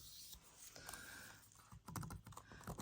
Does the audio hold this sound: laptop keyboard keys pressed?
yes